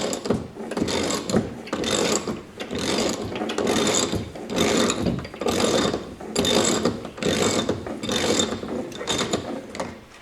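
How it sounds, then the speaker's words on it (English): A hand ratchet loosens a nut on the rear wiper motor of a Chevy Tahoe, clicking close by in about nine quick bursts of rapid pawl ticks with short pauses between strokes. "Take that nut off."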